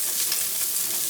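Onions fry in sunflower oil over a gas flame, giving off a steady close hiss and crackle without pauses.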